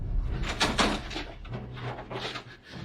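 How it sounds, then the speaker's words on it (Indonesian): A door is opened, with a few knocking and handling bangs followed by a rattling scrape, close and fairly loud, with no speech over it. "Buka pintu."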